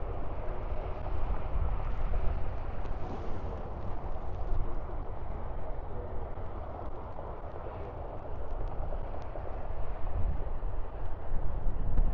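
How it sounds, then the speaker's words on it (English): Strong wind buffeting the microphone in a continuous roaring rumble, gusting slightly louder and softer over time, with no talking. "Ooh, it's windy."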